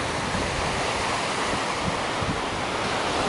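Waves washing onto a beach at Sheboygan on the Lake Michigan shore, heard as a steady, loud wash of surf blended with wind noise on the microphone, with no talking.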